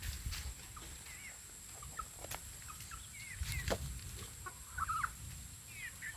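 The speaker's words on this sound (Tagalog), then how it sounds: "Nabubulunan na yung manok." Several sick roosters with colds, showing signs of choking, give scattered short clucks and rough calls, fairly close and moderately quiet against a steady background hiss.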